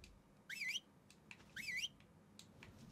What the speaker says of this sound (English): He's just whistling to tell them all to land.